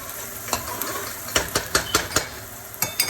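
Onions frying in a pan over low heat, a steady sizzle with several sharp scraping stirs of a utensil against the pan at irregular intervals.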